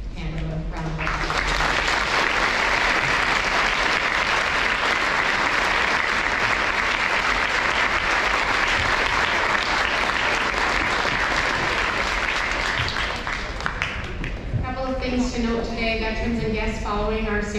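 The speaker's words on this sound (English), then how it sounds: "I would like everybody to give another hand of a round of applause" An audience at a Veterans Day ceremony claps for veterans in a dense, loud, sustained round of applause lasting many seconds, before a speaking voice returns at the end.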